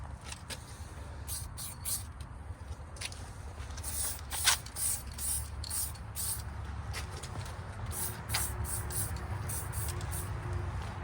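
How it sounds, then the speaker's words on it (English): An aerosol spray paint can hisses in short bursts of varying length, close and moderately loud over a low road-traffic rumble. "I'll probably spray a little across the very, very bottom down here."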